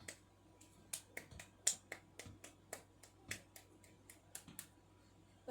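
A person claps their hands alone as a self-stimulating behavior, giving a string of sharp, quiet claps at irregular intervals, roughly two per second, over a low steady hum.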